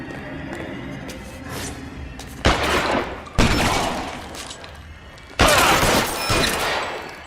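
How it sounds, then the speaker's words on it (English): Gunfire in the crime video game L.A. Noire: three loud, abrupt broadband shots at roughly one-second and two-second gaps, each trailing into a noisy decay over a steady game-ambience bed. "we're just going to be shooting each other now, aren't we?"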